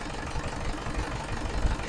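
A steady, tight engine with no oil spraying idles close by, a continuous low rumble with a faint knocking pulse running through it, no voices.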